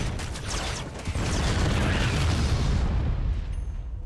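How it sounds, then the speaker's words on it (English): Big explosions in StarCraft roar as a dense, continuous rumbling blast that swells after the first second and holds loud and broad before easing off near the end, with no voices. "The big explosions go off here."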